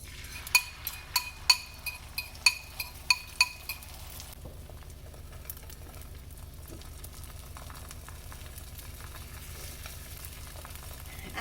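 An egg frying in an unwashed skillet, a quiet steady sizzle heard close up, opened by a quick series of sharp clinks of a utensil tapping the pan.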